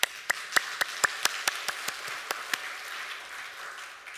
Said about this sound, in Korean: 이 부분에서 우리 다 같이 박수.